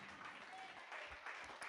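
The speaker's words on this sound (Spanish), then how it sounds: "Dale un aplauso al Señor." A church congregation applauding in praise of God: a low, steady wash of clapping that stays faint throughout, with a voice faintly present underneath.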